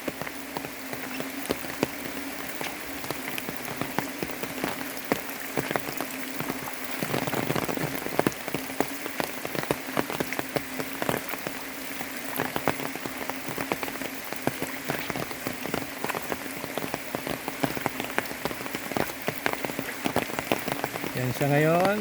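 A river swollen after heavy overnight rain rushes with a strong current, a steady broadband wash of water that holds constant throughout, close and fairly loud, with no talk over it.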